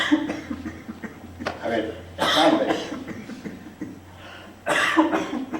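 Several bursts of harsh coughing and throat clearing from a person nearby, mixed with spoken Spanish and a short chuckle.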